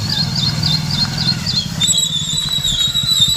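A motorcycle engine runs close by with a steady, low, pulsing putter over about three seconds, with thin high-pitched tones sounding above it.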